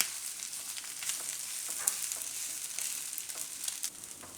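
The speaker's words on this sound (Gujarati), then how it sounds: "તો આને આપણે 2 મિનિટ માટે શેકી લેવું." A soft, continuous sizzle of wheat roasting in ghee, with faint scattered crackles; quiet and steady, no voices.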